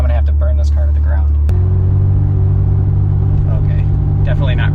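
A 1992 Mercedes-Benz 190 E engine runs rough, holding a loud, steady low drone near the microphone with no talk over it; a sharp click partway through is followed by a deeper, more even idle.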